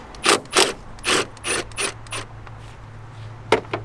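Ratchet clicking as a 10mm nut is loosened on the engine of a 2007-2013 BMW 328i E90 during valve cover gasket work; several close bursts of sharp clicks, then a brief pause and a couple more.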